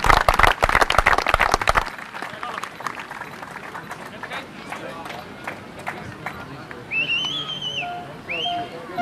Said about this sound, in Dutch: Even een hartelijk applaus.